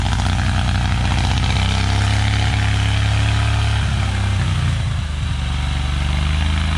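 A tractor engine in a tractor-pull qualifier time trial, running rough as if on one cylinder, drones loud and continuous throughout with an uneven, pulsing low throb.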